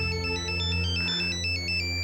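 A mobile phone rings indoors with a loud, repeating electronic melody that plays steadily and alone throughout, with no voices over it.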